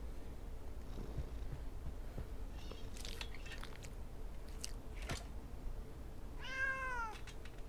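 A cat in a video game purrs and chews continuously at close range, with a few short crackly clicks and a clear drawn-out meow near the end.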